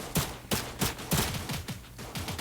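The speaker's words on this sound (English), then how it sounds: "I got my gun out, heard the gunfire, and I knew it was time to get busy." Rapid bursts of gunfire in the video game Cyber Hunter, several sharp shots in quick succession about every half second, loud and close with no talking.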